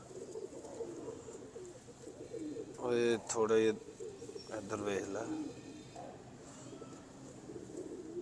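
Pigeons of a Lakha-type breed coo in two short bursts near the middle, fairly close, over a quiet background, while a voice speaks briefly at other moments.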